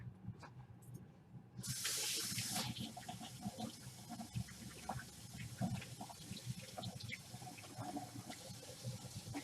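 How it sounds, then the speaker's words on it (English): Tap water gushes loudly for a moment, then keeps splashing and trickling as hands are washed under it, with clattering and rubbing noises close by. "I'm just going to wash my hands."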